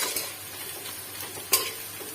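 Garlic and onion fry in oil in a pan as the base for a pona fish curry. A soft, steady sizzle runs under occasional stirring scrapes, with one sharp metallic clink near the end.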